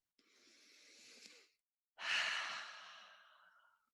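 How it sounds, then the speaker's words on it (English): A deep breath taken during a guided calming exercise: one long, steady inhale followed after a brief pause by a stronger, louder exhale that fades slowly, close and clear with no talking. "Now take a deep breath."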